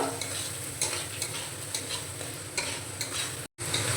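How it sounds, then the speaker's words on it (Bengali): Peanuts being stirred into peas frying in a pan for navratan pulao, with a steady sizzle under close, repeated scraping and stirring strokes, and no talk. "এখন দিয়ে দেব ভেজে রাখা চিনে বাদাম চিনে বাদামটাকে ভালোভাবে মিশিয়ে নেব"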